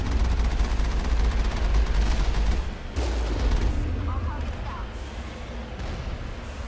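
Turret gunfire in the video game Mass Effect rattles loudly as sustained bursts of rapid shots, cutting off briefly near the middle before resuming somewhat quieter.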